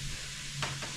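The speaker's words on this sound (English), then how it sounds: "we're gonna saute them with olive oil for 20 minutes" Food sautéing in olive oil in a pan over medium-high heat, a steady close sizzle with a brief stir or scrape near the end and no talk.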